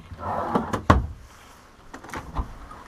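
Drawers sliding open and shut inside a 2016 Keystone Retreat 391 Loft destination travel trailer, a few short thuds and rolling scrapes close by with quiet gaps between them.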